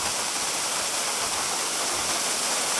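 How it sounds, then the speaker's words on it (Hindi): A waterfall in Mechuka in northeast India roars as a loud, dense, steady rush of water filling the whole clip without pause. "आ जा भाई वाटरफॉल,"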